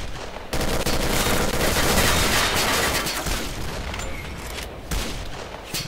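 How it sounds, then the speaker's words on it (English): Sustained gunfire from S.T.A.L.K.E.R.: Call of Pripyat, a loud, dense volley of rapid automatic shots that starts abruptly, rattles on without pause and tapers slightly near the end. "Okay, I'm still being shot at."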